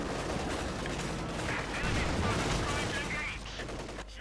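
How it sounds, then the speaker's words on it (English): Mortar and other weapons fire in the World War II strategy game Company of Heroes 2, a dense, continuous barrage of battle noise with no clearly separated shots, steady and moderately loud throughout. "Then the mortar though, recently nerfed, has less of a rate of fire there."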